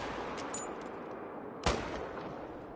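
Gunshot in a hunting video game, a single sharp close report followed by a short decaying echo against quiet background hiss.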